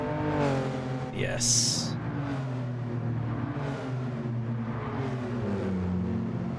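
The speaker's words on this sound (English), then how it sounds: "So there's something else about the straight 6-cylinder. They can sound great." Straight six-cylinder 3-litre race car engine in Gran Turismo 7, droning and revving smoothly at steady pitch with a brief shift, under a speaking voice.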